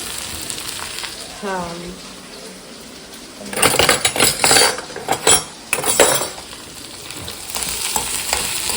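Food sautéed and stirred in a pan: a quiet sizzle at first, then a burst of loud, rapid metallic scraping and clinking of a spoon against the pan before settling back to frying.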